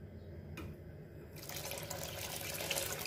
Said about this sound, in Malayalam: ഒരുപാട് വെള്ളം ഒഴിക്കണ്ട,